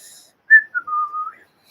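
A person whistles a short, clear melodic phrase of a few notes, close and alone, sliding down then holding steady.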